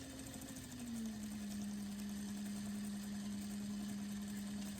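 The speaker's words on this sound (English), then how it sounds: "And I'm gonna sew, again, blending into that seam." A sewing machine stitches a seam on a handmade frog plush with a steady motor whir that dips slightly in pitch early, then runs evenly and quietly for several seconds without talk.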